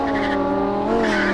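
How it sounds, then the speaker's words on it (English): A Lamborghini Huracan supercar accelerating, its engine giving a loud, steady, racing-style roar whose pitch climbs slightly over a brief moment, heard close up. "they've really tuned this one to make it sound like a race car"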